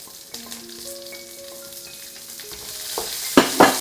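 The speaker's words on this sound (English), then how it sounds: "Then add in garlic and ginger. Stir fry until fragrant." Garlic, ginger, Sichuan peppercorns and dried chilies stir-fry in a wok for mala xiang guo, a soft hiss that grows louder, with a few sustained musical tones early and two sharp spatula scrapes near the end.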